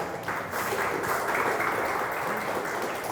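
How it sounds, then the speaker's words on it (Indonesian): Audience applause at a business talk event, a steady, moderately loud burst of many hands clapping that sustains evenly throughout without any voices over it. "tepuk tangan untuk Zaskia."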